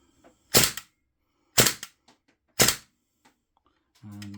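A GHK V3 AKM gas blowback airsoft rifle fires three sharp, loud single shots about a second apart, each with a snappy mechanical clack, followed by a brief hum.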